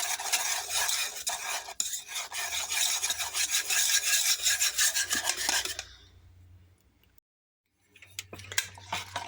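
Flour and water for tripe soup are stirred briskly in a pot, making a dense, continuous whisking and scraping rasp. It stops abruptly, leaving near silence, then a few scattered clinks follow.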